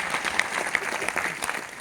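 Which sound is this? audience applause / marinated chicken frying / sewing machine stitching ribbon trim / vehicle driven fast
audience applause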